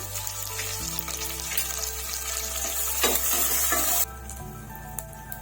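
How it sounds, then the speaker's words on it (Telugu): Garlic cloves and curry leaves frying in a pan of oil with chana dal for pepper rice, giving a steady close sizzle with brief stirring scrapes and no talk. "వెల్లుల్లి రెబ్బలు, అలాగే ఇప్పుడు కర్రీ లీవ్స్ యాడ్ చేసుకున్నామండి."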